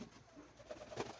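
Domestic racer pigeons at bathing time give soft, low cooing, faint and close, with light splashing patter and a sharp noise right at the end.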